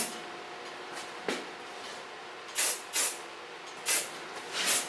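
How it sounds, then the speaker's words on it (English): Hairspray misted onto a styled pixie haircut in short, soft hissing bursts, four or five puffs spaced a second or less apart, close and fairly quiet against faint background noise. "I used the hairspray, just a little bit, not too much."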